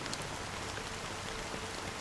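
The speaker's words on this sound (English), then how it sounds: "But it's still raining." Steady rain falls continuously, a dense broadband hiss of drops on surfaces filling the whole stretch at an even level, with no voices.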